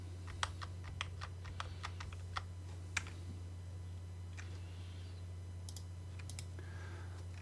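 Computer keyboard keys are pressed in a quick run of crisp, faint clicks, then a few scattered taps, over a steady low electrical hum in a quiet room.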